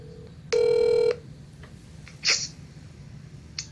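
Telephone line noise as a call hangs up: a loud, steady electronic tone lasting about half a second, followed by a brief sharp burst and faint clicks over low background hiss.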